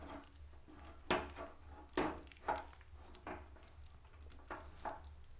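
Peanut and jaggery patali being stirred hard in a pan, giving a series of irregular wooden scrapes and knocks about every half second over a low steady background hum, close and moderately loud.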